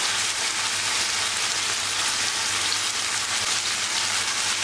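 Thin chicken döner slices frying in a pan, a dense, steady sizzle running continuously at close range with no voices.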